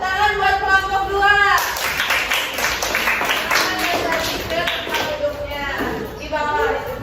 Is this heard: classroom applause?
yes